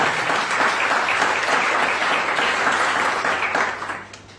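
Church congregation applauding at a Sunday service, a dense, steady wash of clapping from many hands that holds evenly for several seconds, then fades out near the end.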